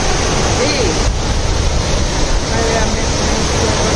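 A waterfall at Badaghagara in Keonjhar pours in a steady, loud, broadband rush of falling water that fills the whole scene close by, with no voices standing out above the roar.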